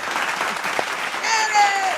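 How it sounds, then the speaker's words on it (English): Applause for a guest breaks out over about two seconds, a steady patter of many hands that swells a little toward the end, with voices and cheering mixed in. "I want to do some clapping over here for you"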